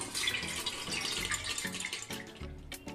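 Washed rice draining in a strainer bowl, water trickling and dripping steadily through the mesh with small splashes, quiet and close, no voices.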